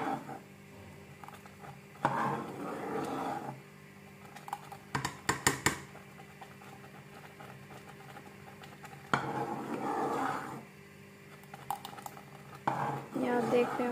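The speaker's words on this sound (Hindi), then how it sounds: "और हम इसको अपने चम्मच हिलाते रहेंगे, इसको मिक्स करते रहेंगे" A spoon stirs custard mixture in a pan, making quiet intermittent scrapes and a few sharp metallic clinks, with someone talking over parts of it.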